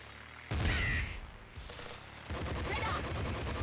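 Rapid SMG gunfire from the top-down shooter Nuclear Throne, loud bursts of fire in two stretches separated by a brief lull.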